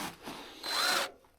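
A Milwaukee drill bit bores through wood at a sawmill mount, whining in two short bursts that rise toward the end, close and loud with no speech.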